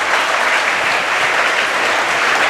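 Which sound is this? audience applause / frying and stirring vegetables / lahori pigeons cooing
audience applause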